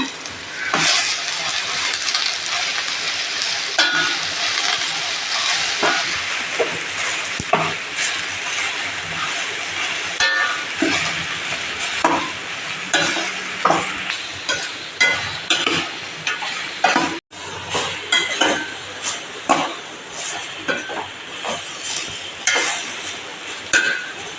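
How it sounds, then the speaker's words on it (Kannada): Soybeans and tomato sizzle steadily while frying in a pan, with a continuous bright crackle and repeated scraping clicks of stirring throughout, close and fairly loud, no talk. "ಟೊಮೆಟೊ ಫ್ರೈ ಆದಮೇಲೆ ಸೋಯಾಬೀನ್ ಹಾಕುವ ಸ್ವಲ್ಪ ಫ್ರೈ ಮಾಡಬೇಕು"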